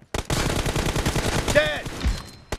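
An M416 rifle firing in PUBG Mobile team deathmatch: a loud, close burst of rapid automatic shots in an even rhythm, with a short electronic chirp partway through before the firing tails off.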